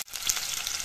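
Onions and green chillies sizzle in hot oil in a pan, a steady close frying hiss that starts right after a brief dip in sound.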